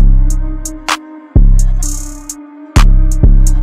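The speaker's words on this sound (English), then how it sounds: "And just like that you have a reversed 808" Reversed 808 bass notes made in FL Studio, each swelling up in a fade-in and cutting off abruptly within a beat pattern, with crisp hi-hat ticks and snare hits over the booming low end.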